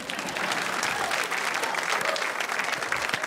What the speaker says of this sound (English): clap for Montana